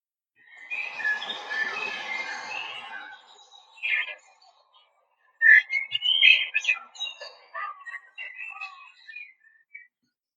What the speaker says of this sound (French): Il y a le sifflement des oiseaux, donc ça doit être un parc.